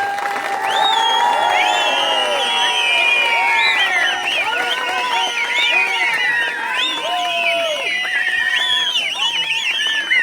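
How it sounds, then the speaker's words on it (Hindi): A crowd at a political rally in Bunjwah cheers and applauds loudly and continuously, with whoops, shouts and excited voices layered over steady clapping throughout. "जोरदार तालियों के साथ स्वागत किया जाए,"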